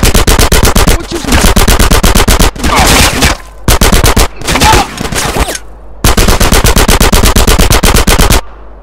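Loud, rapid automatic gunfire in GTA San Andreas, long sustained bursts of evenly spaced shots broken by short gaps and a few messier, noisier stretches of mixed firing and impacts.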